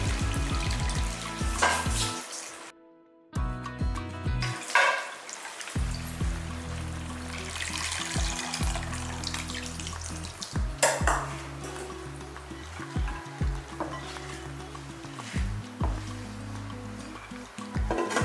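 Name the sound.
tamarind water poured into frying onions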